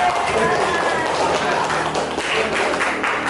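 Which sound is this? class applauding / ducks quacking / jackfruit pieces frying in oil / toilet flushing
class applauding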